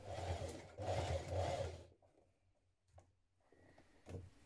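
A sewing machine runs in two short bursts, stitching a folded denim waistband onto a pair of jeans, then falls quiet apart from faint handling clicks and taps near the end.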